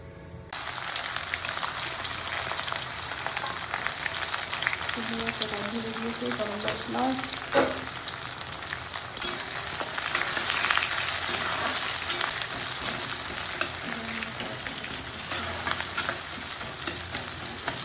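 Onions frying in a pan, a loud continuous sizzle running throughout with faint stirring sounds and a brief stretch of voice partway through.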